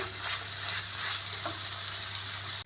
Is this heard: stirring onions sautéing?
yes